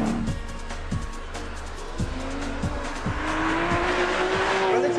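A Porsche 997 GT3 RS drives hard, its engine note rising steadily through the gears with rhythmic thumps from the road and a building roar, loud and close throughout.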